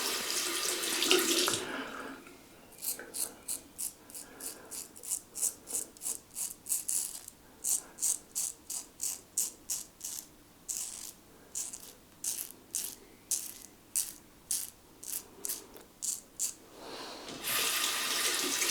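Tap water runs and splashes in a rhythmic series of bursts, as if the stream is broken up by hands or dishes, close by with no talking.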